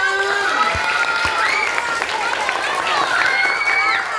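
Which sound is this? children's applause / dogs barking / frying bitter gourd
children's applause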